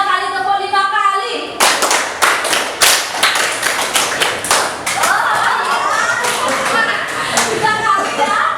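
Sets of crisp group hand claps follow a counted rhythm pattern in a class lesson, with brisk loud bursts and short gaps, while a voice talks before and between the claps.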